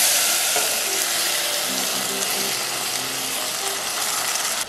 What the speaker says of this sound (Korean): 냄비에 식용유를 두르고 마늘과 대파를 넣어 약불에서 향이 올라올 때까지